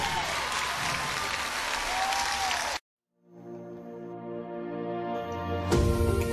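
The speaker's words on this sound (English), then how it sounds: "It's all right if you want to clap your hands if you want to." A church congregation claps during morning prayer, a dense steady patter of many hands that stops abruptly, followed by a sustained organ chord building in loudness.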